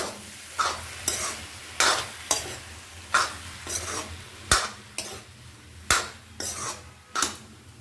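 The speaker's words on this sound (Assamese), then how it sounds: "নিমখ অকণ দি এইখিনি ইয়াতে দি দিম। ভালদৰে সানি দিম।" Mustard paste mixed by hand with vinegar and salt in a bowl, heard as about a dozen close, rhythmic scraping and stirring strokes, with no one talking.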